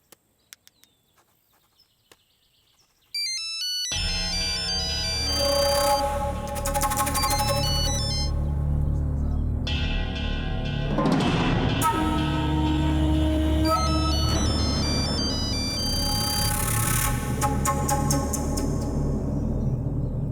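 A phone ringtone plays loudly and continuously as an unanswered call rings out, a bright repeating electronic melody over a full backing, preceded by a few soft clicks.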